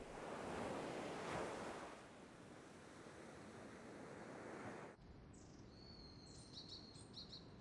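Rough sea waves crash and roar loudly along a wintry coast backed by mountains, with a sudden drop in the surf after about five seconds and birds calling over the quieter wash.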